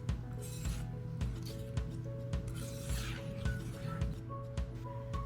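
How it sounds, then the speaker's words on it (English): Cooked fruit tart filling is stirred together with vanilla and salt in a pan, giving a continuous rhythmic scraping and rubbing with soft knocks of the utensil, close and moderate in level. "Mix all together."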